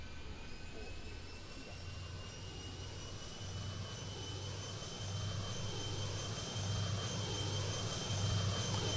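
A Dash 8 turboprop airliner's engines drone in Airport Madness 3D at a mountain airport, a steady whining hum with rising tonal whine that grows slightly louder over the stretch, no talk over it.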